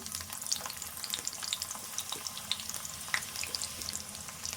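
Onion frying in a pan with a dried red chili, giving a steady close sizzle with soft crackles throughout, no talk.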